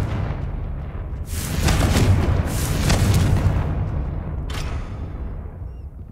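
Confringo blasting spells exploding in the Hogwarts Legacy video game: a cluster of loud booming blasts over about two seconds, then a smaller crack, all over a steady rumbling bed.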